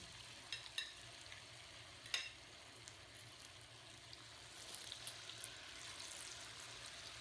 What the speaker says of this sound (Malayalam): ശേഷം ബാക്കിയിരിക്കുന്നതും ഫ്രൈ ചെയ്തെടുക്കാം.